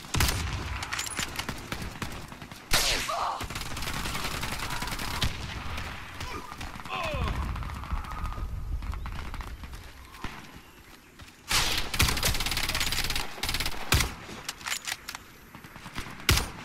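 Rapid gunfire from a McMillan CS5 rifle and other weapons in the Warface shooter game, loud bursts and volleys recurring throughout under a busy game mix with occasional talk.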